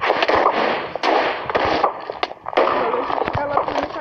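The Wither boss fires in Minecraft: a series of sharp, explosive blasts and crackling bursts, about half a dozen loud hits spread unevenly, with a brief lull in the middle before the barrage resumes.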